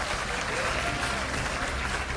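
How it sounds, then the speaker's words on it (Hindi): College students at an event in an Indian hall give themselves a brief, hearty round of applause, a thick, continuous wash of many hands clapping at once. "तो अपने लिए जोरदार तालियां बजा लें"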